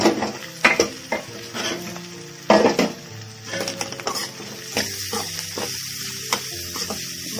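Carrot fry cooking in a pan on the stove, a steady low sizzle with repeated scraping and stirring knocks of a utensil against the pan, close and continuous, with no talking.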